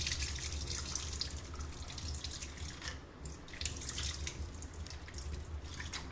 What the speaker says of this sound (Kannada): ಈಗ ನೀರು ಚೆಲ್ಲಿಬಿಡಿ ಅದನ್ನು.